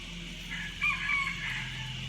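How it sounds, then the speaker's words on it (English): A rooster crows once on a rural farm in the morning, a distant, moderately faint call rising and stretching over about a second above a low steady background hum. "A happy little rooster this morning over there crowing."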